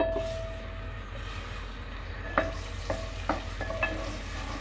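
About 120 grams of large chopped onion frying in hot oil in a cooking pot, a soft continuous sizzle with a few sharp clinks of a utensil against the pot near the end.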